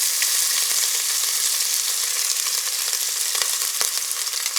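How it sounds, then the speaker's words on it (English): Sausage frying in a pan for South Indian tomato rice gives a loud, dense, continuous sizzle close up, with small crackles and pops scattered through the steady hiss. "I want to fry it a bit"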